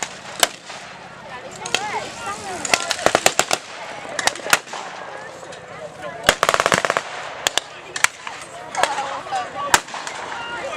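Heavy gunfire, including a tank's supporting fire, crackles in bursts and single sharp shots at the Falaise Gap battle, some near and loud, some distant, over a continuous rumbling battlefield background.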